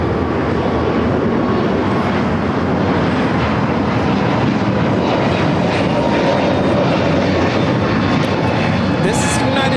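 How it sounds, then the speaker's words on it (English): A United Airlines Airbus A321neo takes off at LAX for Denver, a loud, sustained jet roar holding steady throughout, with someone talking over the engine noise. "1980 taking off to Denver, Colorado on the A321 Neo."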